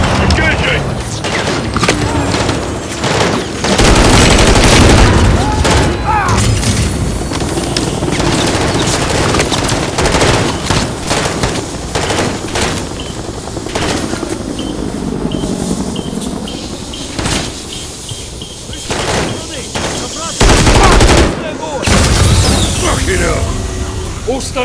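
Heavy gunfire and booming explosions fill a chemical-weapons base mission in Call of Duty: Modern Warfare, loud and near, with bursts and rumbling blasts running under frequent radio-style voices.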